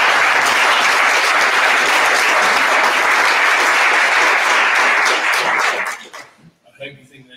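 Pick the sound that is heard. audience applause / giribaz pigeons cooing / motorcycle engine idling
audience applause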